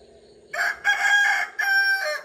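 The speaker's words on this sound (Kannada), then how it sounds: "ನಮ್ಮ ಕೋಳಿನೂ ಗುಡ್ ಮಾರ್ನಿಂಗ್ ಹೇಳ್ತಾ ಇದೆ." A rooster crows loudly and close by in the morning, giving one long drawn-out cock-a-doodle-doo with a brief break partway through. No one is talking.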